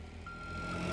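Steady electronic reversing beep from a forklift in BeamNG.drive, a single clear tone over a low engine hum, close and moderately quiet.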